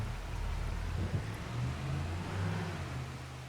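A van's engine hums steadily as it drives through Farming Simulator 25, a smooth mid-low drone that holds even throughout with a slight swell midway. No one speaks.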